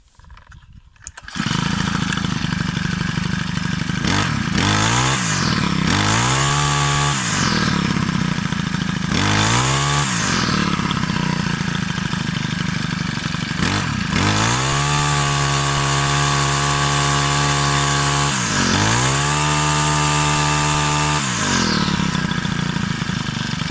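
A Honda UMK425E four-stroke trimmer engine, under repair for not starting, fires up and runs loud and close, revving up and down repeatedly between a buzzy idle and high whining throttle bursts.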